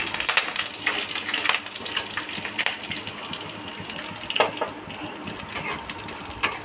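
Curry leaves crackle in hot tempering oil for a masoor lentil dal, a fairly quiet spitting sizzle with sharp pops scattered throughout and no talking.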